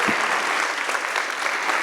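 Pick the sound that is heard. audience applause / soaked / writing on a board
audience applause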